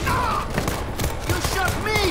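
Gunfire in the zombie shooter game World War Z, a rapid burst of shots with thuds mixed under excited player voices.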